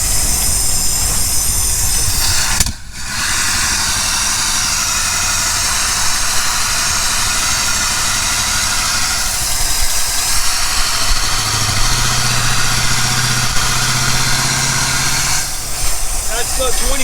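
A van engine runs and idles with a steady mechanical drone and shifting hum as it drives around the block, loud and close throughout, with people talking over it. Individual backfire pops are hard to make out.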